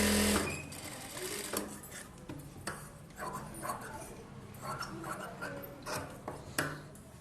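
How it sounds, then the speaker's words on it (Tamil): A sewing machine stitches a plain blouse in a tailor's workshop, running in short steady bursts of rapid clatter with small ticks and pauses, close and clear, with a voice occasionally heard behind it. "இவங்களுக்கும் நான் ரவுண்டு தையல் தான் போடுறேன்."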